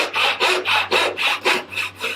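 A Western-style gent's saw cuts through wood on the push stroke, giving about eight quick, even rasping strokes in steady rhythm, close and loud.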